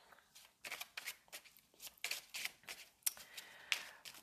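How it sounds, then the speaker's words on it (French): Tarot cards being shuffled by hand, a quiet run of crisp riffling and flicking bursts that repeats in short bursts with brief pauses, close and alone. "je vais mélanger les cartes"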